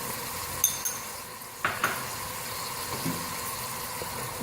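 A spice mixture of turmeric powder and salt for Punjabi kadhi pakora is stirred in a pot, with a few soft scrapes and clinks against a steady kitchen hiss, close and fairly quiet.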